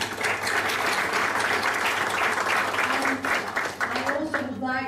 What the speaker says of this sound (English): I would like you to applaud them.